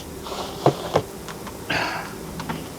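Honeybees buzzing faintly around hives during a beekeeping inspection, with a soft insect hum, a couple of brief knocks and a louder buzzing swell partway through.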